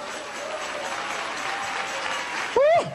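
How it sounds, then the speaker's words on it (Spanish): Church congregation applauding together, a steady wash of clapping with a murmur of voices, then a loud voice briefly rises over it near the end. "Dale ese aplauso a Jesús."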